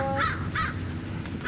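Crows caw during a total solar eclipse in Independence, Oregon, with three loud harsh calls spaced about every half second over steady outdoor background noise.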